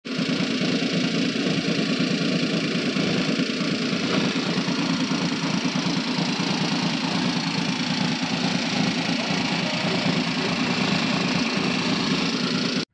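A 2006 Maruti Suzuki Alto LXi engine idles steadily nearby, a low even hum with a faint whine fading early, unchanging for the whole stretch.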